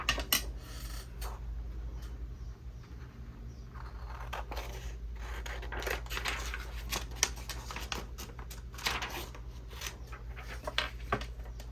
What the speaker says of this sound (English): let's cut a piece of acetate for our frame